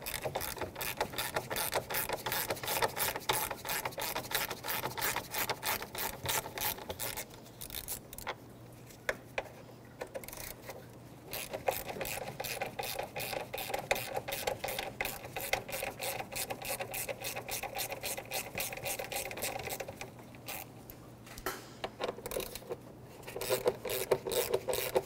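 A ratchet with a 10mm socket loosening the radiator shroud bolts on a 2005-2021 Nissan Frontier 4.0L, giving long runs of rapid close clicking with short pauses between strokes.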